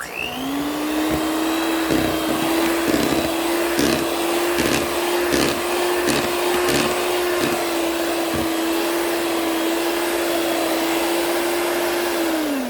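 Steady loud motor whine of an electric mixer beating cake batter for a star-shaped cake, running continuously for the whole stretch with faint ticking knocks of the beaters against the bowl.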